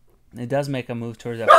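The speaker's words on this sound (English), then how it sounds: "Pardon my dog." A pet dog barks in a few close, loud yips and woofs, mixing with someone speaking indoors.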